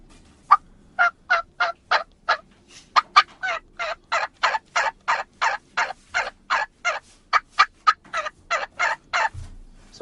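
A hunter's turkey call imitating a hen turkey's yearning response: a long run of about twenty-five evenly spaced, close, loud yelping notes in a steady rhythm, with no talking.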